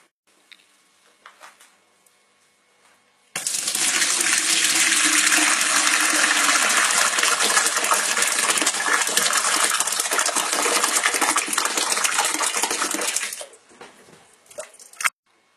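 Whey water pours off homemade tofu into a kitchen sink, a loud splashing gush that starts abruptly, runs steadily for about ten seconds, then stops, followed by a few faint drips and clinks.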